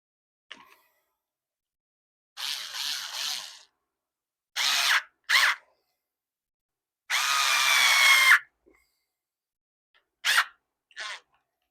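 A power drill driving 25 mm screws into a wooden VR gunstock, in six separate bursts of high whirring, some short and some lasting about a second, with quiet gaps between them.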